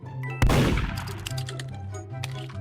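Gunshot in a video game: one sharp loud blast followed by a decaying crackle and further faint impacts, with no voices.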